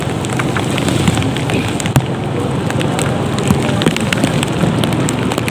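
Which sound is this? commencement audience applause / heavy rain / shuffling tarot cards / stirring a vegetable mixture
heavy rain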